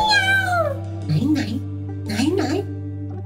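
A cat meows once near and loud in a long falling cry, with a steady hum underneath; afterwards a child-like voice talks over it in short bursts.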